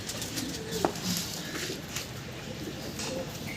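Pigeon cooing among high-flying pigeons, one short soft coo standing out faintly against a steady background hiss, with no other clear calls.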